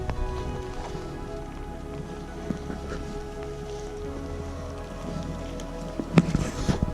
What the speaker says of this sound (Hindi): और बारिश शुरू हो गई है, अच्छी खासी स्पीड में हो रही है बारिश।